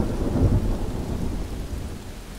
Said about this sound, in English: At least it is not thunder that is very, like, very, very loud